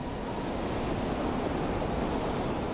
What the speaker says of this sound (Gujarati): ભારે વરસાદના કારણે કોઝવે પરથી પાણીનો પ્રચંડ પ્રવાહ વહેતો જોવા મળ્યો હતો